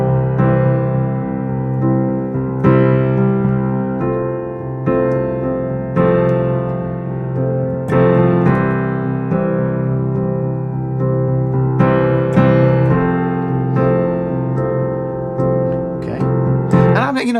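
Piano chords change every couple of seconds over a sustained low note that rings through all of them, played with gentle dynamic swells.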